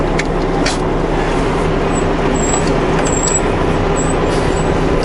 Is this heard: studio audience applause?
no